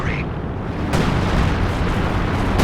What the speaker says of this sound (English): I love the artillery. It's such a good anti-emplacement thing.